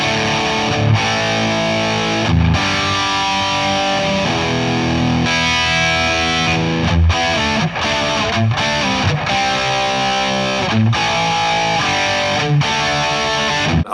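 Electric guitar driven through an affordable overdrive pedal set for an 80s modded-Marshall crunch, playing loud, dense distorted chords and riffs with brief gaps between phrases, no voices.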